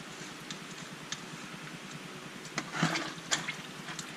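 Oil draining from a Ford New Holland 1920 tractor, a steady faint splashing trickle with a few small drips and knocks, close and without talk.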